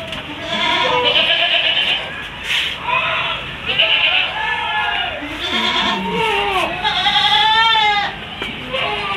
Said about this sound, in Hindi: जंबो साइज की बकरी है।